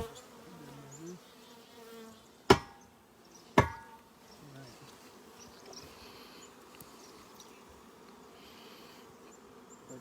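Honeybees swarm thickly around an opened backyard hive in Fairbanks, their buzzing rising and falling close by. Two sharp knocks from the hive frames break through the steady hum.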